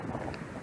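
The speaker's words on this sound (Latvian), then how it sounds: "Tagad sāk pieņemties spēkā vējš." Wind gusting outdoors on a hiking route after rain, a brief, breathy rush buffeting the microphone with an uneven low roar.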